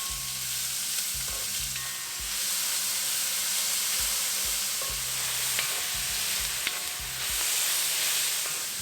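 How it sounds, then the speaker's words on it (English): Onions sautéing in a hot pan for South Indian upma give a steady, close sizzle with occasional stirring scrapes, continuing without pause for the whole stretch. "We'll saute the onions down for about a minute."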